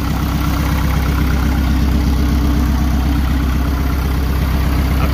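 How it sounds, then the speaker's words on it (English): A turbocharged Honda B20 VTEC car engine idles close by with a loud, even, throbbing rumble that holds steady throughout, with no voices. "as you can see, he's idling fine"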